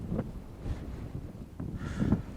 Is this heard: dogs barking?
no